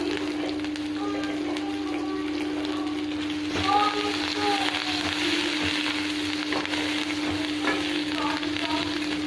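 A bay leaf and green chilli fry in a small amount of oil for a potato and pointed-gourd curry. The close, steady sizzle carries soft stirring scrapes, and a voice talks over it now and then.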